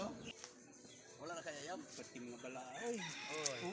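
Chickens clucking and a rooster crowing close by, mixed with a person talking over the noisy birds.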